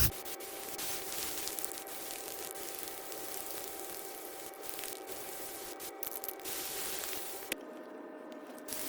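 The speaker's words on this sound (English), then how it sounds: "So I just spray paint it." Spray paint hisses steadily from an aerosol can onto a homemade wooden cemetery fence made from 1x2 boards. The loud, continuous spray is broken by a few brief pauses, then cuts off near the end.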